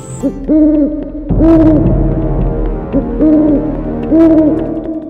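An owl hoots loudly and close by, giving a series of repeated wavering calls in bursts of two or three notes with short pauses between them.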